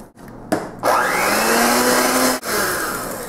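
An electric mixer whirs steadily through a chocolate batter as cocoa powder is worked in, its motor pitch rising and then holding at a loud, constant drone with a brief dip partway through.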